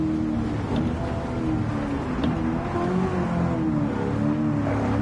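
Ford F-150 Raptor engine in Gran Turismo 7 off-road driving, a steady loud droning rumble with shifting harmonic revs throughout, no talk.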